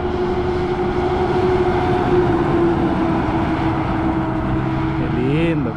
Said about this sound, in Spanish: Aquí viene un Volvo FH